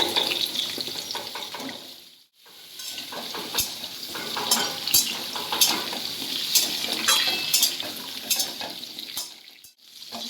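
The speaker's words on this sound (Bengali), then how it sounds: "এরপর আমি মিষ্টি আলু বা রাঙা আলুটাকে দিয়ে দিলাম এটাকে ভেজে নেবো" Sweet potato pieces frying in oil for a mixed vegetable curry, a strong close sizzle with rhythmic stirring clicks, dipping briefly to near quiet twice as the pan is disturbed.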